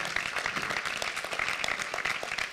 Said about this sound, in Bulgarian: Аплодисменти за брат Митко отново.